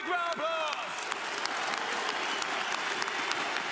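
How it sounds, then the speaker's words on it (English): Dense, sustained applause from a large arena crowd at an esports grand final, Counter-Strike Astralis vs Navi in Lisbon, steady clapping filling the whole stretch with a brief raised voice near the start. "Big round of applause."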